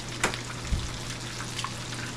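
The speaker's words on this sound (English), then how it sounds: "Let those fry up." Breaded food fries in a pan with a steady, soft crackling hiss, broken by a couple of faint clicks or knocks, close and even throughout.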